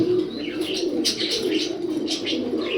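Martin breed racer pigeons, a male and a female, coo steadily and up close, with soft throaty burbling and a few brief chirps on top, and no talking.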